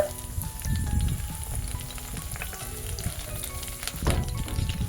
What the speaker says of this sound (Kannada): ಈಗ ಇದಕ್ಕೆ ಕರಿಬೇವಿನ ಎಲೆಗಳನ್ನು ಹಾಕೊಳ್ಳೋಣ.